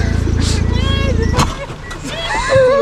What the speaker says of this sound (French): C'est quoi ce bruit? C'est le pot.